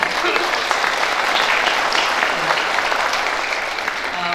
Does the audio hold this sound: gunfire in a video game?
no